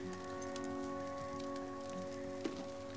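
Heavy downpour in The Flame in the Flood game hisses as steady dense rain on a surface, continuous and even throughout, with a low tonal hum from the game's music beneath and one brief sharp tap.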